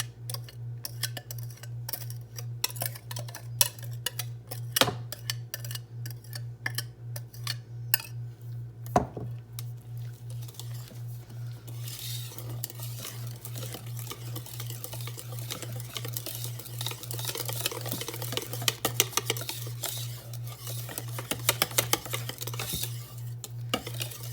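Wet ingredients being stirred into a keto chocolate cake batter in a bowl, with scattered clinks and taps of utensil on dish, then a busier stretch of scraping and mixing, all over a steady low appliance hum and no speech.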